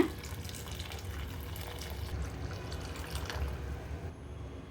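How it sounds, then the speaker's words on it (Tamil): Warm water is poured into a cooking pan while making rava pongal, giving a soft, continuous splashing and trickling that runs steadily throughout and is fairly quiet. "இப்போ தண்ணி சேர்த்துக்கிறேங்க தண்ணி வந்து வெது வெதுப்பான நீர் தான் சேர்த்துக்க போகிறேன்"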